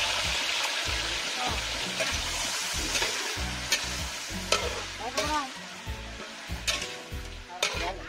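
Meat frying on its own in a pan without garlic or onion, with a strong sizzle and brisk, repeated stirring scrapes, close and steady, and a few sharper clatters.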